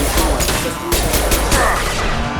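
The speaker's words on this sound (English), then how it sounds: "They've seen us. Taking fire." Rapid gunfire in a Mass Effect 2 firefight, a loud dense barrage of repeated shots and impacts running nonstop throughout with crashes layered in.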